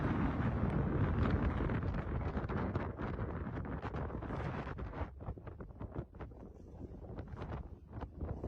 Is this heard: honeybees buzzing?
no